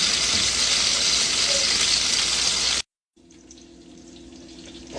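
About one and a half cups of cheddar cheese melting into a thickening sauce in a pan, a steady close sizzle and bubbling that cuts out abruptly, then a quieter low hum with faint clatter.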